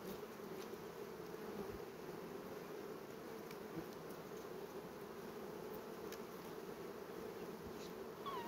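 Honeybees buzz at an open hive during an inspection with brood visible, a dense, steady drone that holds close and even throughout, with no talking.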